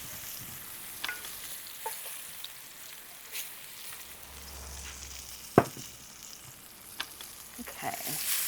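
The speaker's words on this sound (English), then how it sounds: "I am just going to let those sizzle for a minute" Vegetables frying in a hot oiled pan give a steady, gentle sizzle with occasional crackles and pops, fairly quiet and heard up close without any voices.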